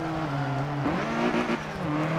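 A Ford Fiesta ST racing engine at Lime Rock in Forza Motorsport 7: a steady, close, buzzing engine note that drops and climbs through two quick gear shifts.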